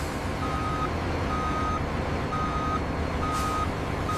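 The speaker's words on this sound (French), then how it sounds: "Camion 23, en route vers le concasseur." A mining haul truck drives toward the crusher at a diamond mine, its steady engine rumble overlaid by a repeating reversing-style beep that sounds four or five times at an even pace.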